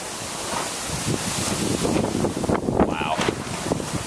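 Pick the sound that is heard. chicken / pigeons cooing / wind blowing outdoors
wind blowing outdoors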